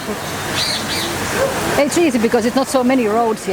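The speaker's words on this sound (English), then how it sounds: "Already hear the birds chirping in there." Birds chirp and tweet in a large walk-through aviary at the Kuala Lumpur Bird Park, with high calls in the opening seconds before someone speaks over a lighter chorus of chirps.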